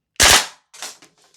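A Noveske Ghetto Blaster gas blowback airsoft rifle firing on semi-automatic gives one loud, sharp crack up close, followed by fainter mechanical clacks and rattles as the action cycles.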